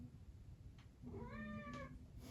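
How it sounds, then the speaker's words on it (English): A domestic cat gives a single drawn-out meow, clear and fairly close, against a faint steady background hum in a quiet indoor room. "If you hear meows"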